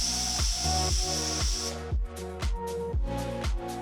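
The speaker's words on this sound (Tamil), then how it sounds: "குக்கரை மூடி 3-4 விசில் வர வரைக்கும் வேக விடுங்க." A pressure cooker cooking chicken hisses loudly with steam, then breaks into a rapid rhythmic puffing and rattling as the whistle release continues.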